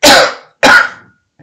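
Two loud, close coughs in quick succession, each a harsh burst fading quickly, followed by a faint brief sound.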